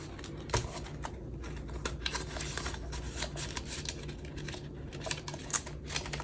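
A paper dollar bill is folded and creased by hand at close range, giving steady soft crinkling and rustling with a few sharper snaps of paper, and no talk.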